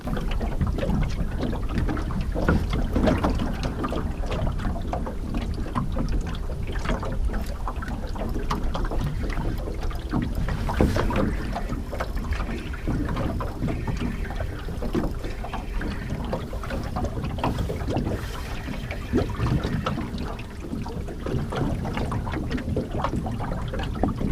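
A boat moving along the water on a pike fishing trip, with a steady rushing wash and engine hum plus wind buffeting the microphone, continuous and fairly loud throughout.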